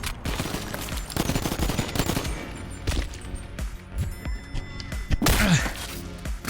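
Rapid gunfire in the VR game BONELAB with a zombie mod, bursts of shots and impacts coming in irregular clusters at close range, mixed with thuds.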